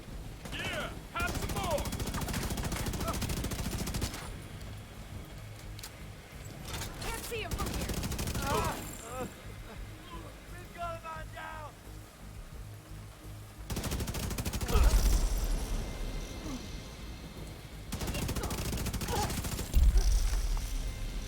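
Sustained automatic gunfire from a 120-round AR magazine in The Division 2, long bursts of rapid shots alternating with quieter stretches, a voice talking through parts of the firing.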